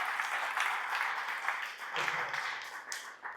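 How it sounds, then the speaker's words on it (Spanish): A church congregation applauds during a Spanish-language sermon, a steady wash of clapping that swells around the two-second mark, with voices mixed in beneath the applause. "Denle un aplauso al Espíritu Santo de Dios"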